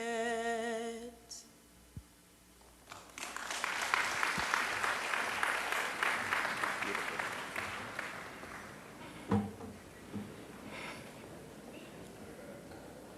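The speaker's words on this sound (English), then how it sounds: "I think she deserves another little round of applause" An audience claps after a sung rendition of a Cayman Islands song; a held musical note ends, then steady applause swells for several seconds and fades into quieter scattered claps.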